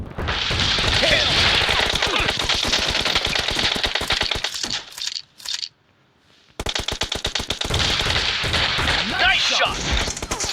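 Dense, rapid gunfire from the mobile shooter PUBG Mobile, in a shotguns-only match, with loud overlapping shots and clatter filling most of the clip, then a brief quiet gap before the firing resumes just as densely.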